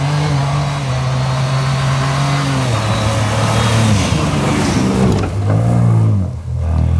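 An Ineos Grenadier climbs an off-road hill at full throttle, its engine droning loud and close, the revs holding steady and then dipping and surging as the load shifts.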